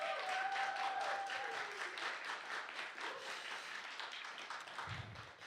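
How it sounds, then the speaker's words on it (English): An audience at a literary quiz event gives a steady round of applause that stays fairly distant and sustained, then tapers slightly toward the end. "So I'd like to give a round of applause to them"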